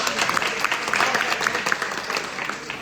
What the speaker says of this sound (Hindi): अभी तक की सबसे जोरदार ताली हमारे गुरुजी के लोगों की